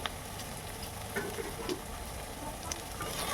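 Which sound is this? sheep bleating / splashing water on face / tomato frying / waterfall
tomato frying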